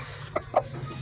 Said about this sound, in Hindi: एक ये वाला मुर्गा है खूबसूरत से